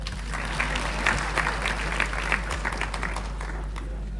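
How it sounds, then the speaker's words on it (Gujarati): An audience at a Divyasetu programme in Bhavnagar breaks into sustained, dense clapping that holds steady throughout the short stretch, with no talk over it. "આ બધાને જોરદાર તાળીઓથી વધાવો"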